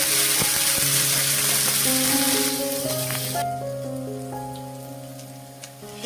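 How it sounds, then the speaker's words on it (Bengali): Ginger and green chilli paste fries in hot oil with spices, a steady loud sizzle and crackle filling the pan, easing off slightly toward the end while faint tonal music runs beneath. "এবার এই আদা কাঁচা লঙ্কাটাকে 2 মিনিট একটু নেড়ে চেড়ে ভেজে নিতে হবে"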